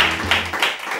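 Audience applause for a guest on a television variety show, a dense burst of clapping that rises and swells over about a second, fairly close and full.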